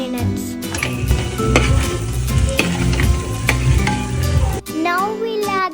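Chicken with turmeric, pepper and salt stirred in a hot pan, a loud continuous sizzle with rapid scraping and clanks of a utensil on metal; near the end the frying quiets and a faint voice is heard.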